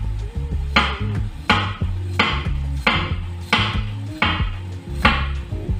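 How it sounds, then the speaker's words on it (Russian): A sharp knife slices peeled potatoes thinly on a cutting board, a steady, even run of about six distinct chopping knocks, close and clear with no talk. "я беру 700 грамм картофеля уже чищенного и нарезаю тонкими слайсами"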